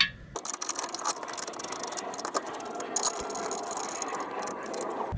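Bolts being fitted and tightened on the lower control arm of a 2014 Toyota Sienna, with close metallic rattles and ratcheting clicks in quick irregular bursts throughout.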